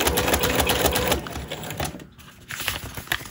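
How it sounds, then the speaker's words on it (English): A sewing machine chain-stitches fabric pieces fed through one after another, as in quilting, with close, rapid needle clatter in runs and a brief pause before stitching resumes. "just basically chain stitching like I would do in quilting"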